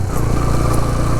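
Motorcycle engine on an off-road mountain track, a loud, close, steady rumbling drone throughout the short moment.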